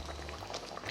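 Butter chicken sauce bubbles and splutters in a pan, a faint, brief stretch of soft popping and burbling.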